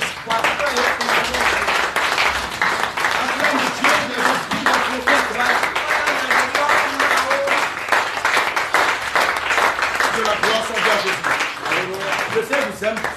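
Church congregation in Lomé clapping and cheering in acclaim of Jesus, a sustained dense wave of applause with shouting voices mixed through, loud and continuous.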